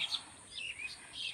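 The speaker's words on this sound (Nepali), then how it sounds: "चराचुरुङ्गीहरुको आवाज" Birds chirping and tweeting in an open outdoor setting after rain, beside a rice paddy. Soft, moderately distant calls come in short bursts, with a steady hiss underneath.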